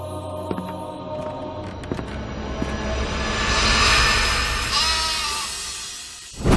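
Sheep bleat several times against a steady low rumble, like a distant aircraft engine, with a louder swell in the middle.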